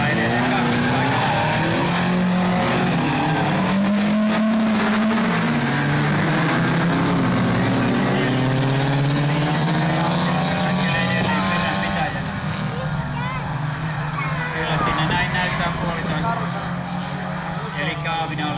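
A folk racing car with a Volvo engine races on a track, its engine roaring loud and sustained with rising and falling pitch as it accelerates, under continuous commentary.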